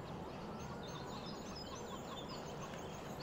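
Chickens clucking in a constant loop in the farming video game Farming Simulator 17, a steady dense bed of fowl calls with no talk over it.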